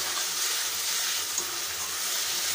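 Spice paste for mutton curry with potato fries in a pan with an even, breathy sizzle, close and steady for a short moment, with no talking.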